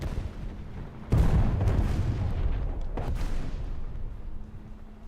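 Bomb blast in a tank combat game: one loud, deep boom that breaks sharply and rumbles away over several seconds, with a second, smaller burst partway through, no talk.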